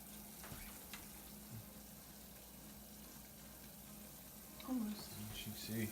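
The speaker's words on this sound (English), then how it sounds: "that is the Caro syrup, water, and sugar. That is boiling." Pot of Karo syrup, water and sugar boiling for cinnamon bark candy, a faint continuous bubbling and sizzle under a person talking.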